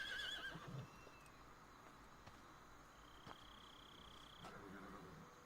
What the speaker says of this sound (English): It's the horse in the middle of the night.